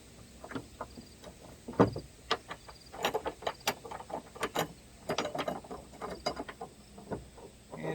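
Clamp mechanism being tightened by hand, giving a series of sharp mechanical clicks and ratcheting ticks, close and fairly quiet, irregular in rhythm with short bursts, with no talking.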